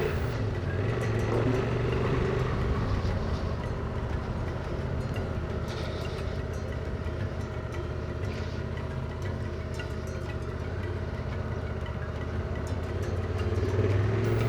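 A motorcycle riding a long stretch of road, a steady loud engine drone with rushing wind and road noise throughout, no voices.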